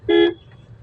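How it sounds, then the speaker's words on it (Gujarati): A single short car horn toot, loud and close, cutting off quickly into quiet. "હોર્ન વગાડીને"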